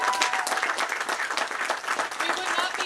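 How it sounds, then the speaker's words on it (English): Sustained audience applause at an outdoor school groundbreaking ceremony for a grades 7–12 district, dense steady clapping from a sizeable crowd throughout, with a little speech mixed in. "let's get a round of applause for that"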